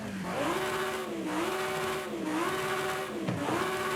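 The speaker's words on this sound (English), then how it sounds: "So there's a Ferrari V8." A Ferrari V8 engine in Forza Horizon 5 revs repeatedly, the pitch rising and dipping in rhythmic swells with a buzzy, harmonic-rich tone, loud and close with no talking.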